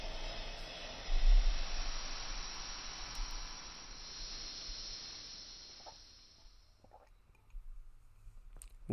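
A waterfall in the Link's Awakening video game pours as a broad, steady hiss that fades gradually and cuts off, followed by a few faint clicks in the quiet.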